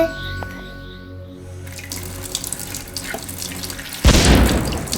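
Orange-tinted liquid made with yellow food coloring is poured into a homemade foaming volcano experiment, starting as a soft steady trickle and then bursting into a loud rushing fizz near the end.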